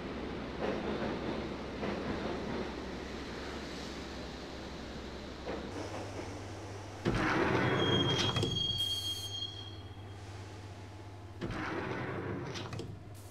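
A train rolls toward Roscoe Street Station in the Max Payne PC game, a steady low rumble of wheels on track with squealing rail noise and a loud surge midway, no voices.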